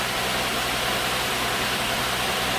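A BMW E30 engine idles with its revs settling down, a steady broadband engine hum with low rumble, close and continuous throughout with no talk.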